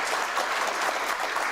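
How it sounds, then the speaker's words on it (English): An audience at a televised UK election debate breaks into a dense burst of clapping, loud and sustained throughout with no voices over it. "Well, applaud him."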